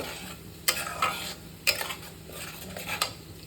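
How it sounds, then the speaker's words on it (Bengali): Spice paste stirred and sautéed in a pan for rajma, with a spoon scraping and knocking against the metal in repeated strokes over a soft, steady sizzle close by, no voices. "খুব ভালো করে কষিয়ে নেব"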